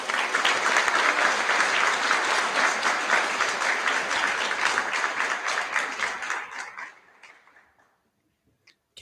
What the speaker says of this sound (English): A round of applause for these students.